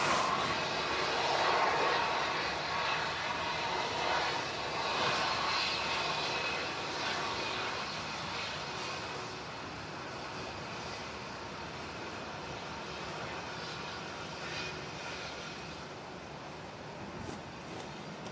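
An Airbus A319 departs Manchester Airport on a windy day bound for London Heathrow, its jet engines a loud, steady roar that fades slightly over the clip with no voices.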